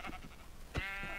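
A sheep in Minecraft bleats once in a short, wavering cry near the end, after a dull thump, over faint background noise.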